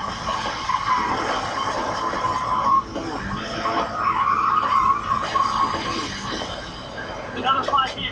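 Cars skid with squealing tires in a multi-vehicle pileup on the southbound 405 highway, a loud, continuous screech rising and falling over roadway rumble and crowd noise for several seconds.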